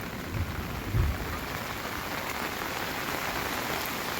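Heavy downpour pounds steadily on surfaces outdoors, a dense close hiss of rain with a couple of low thumps early on, while floodwater rushes through the constant wash.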